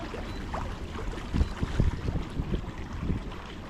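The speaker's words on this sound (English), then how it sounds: "right now driving the kayak using just the manual modes to get ourselves to a position we want to go to" A Hobie Outback kayak moves across open water, with steady wind rumble and soft splashing and lapping close by, and no voices.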